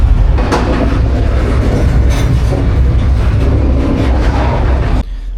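A freight train rolls along the rails in America, heard from on board as a loud, steady rumble with rattling clatter and periodic clanks, dropping off abruptly near the end.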